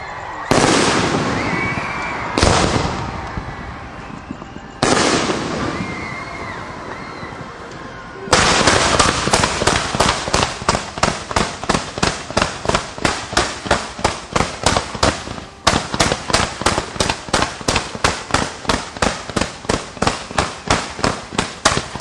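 Mortar shells firing outdoors: three loud separate launch blasts, then a long rapid rhythmic barrage of sharp repeated bangs close by, with no talk.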